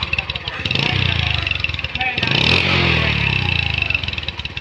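A used motorcycle for sale at a market in Joypurhat idles and revs nearby, its loud, steady engine putter rising briefly in the middle.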